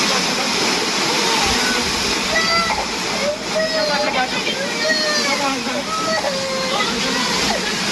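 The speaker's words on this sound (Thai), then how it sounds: "พอตึกมันเขย่าใช่ไหมฮะกลายเป็นว่าน้ำเนี่ยฮะ มันก็เขย่าแบบเนี้ยกระโชกออกมา ล้นตึกนะฮะคุณผู้ชม" Water from a rooftop swimming pool on a high-rise, sloshing and pouring over the edge as the building shakes in an earthquake; a loud, steady splashing rush, close and continuous, with gurgling and spattering through it.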